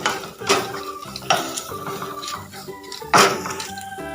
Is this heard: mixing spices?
yes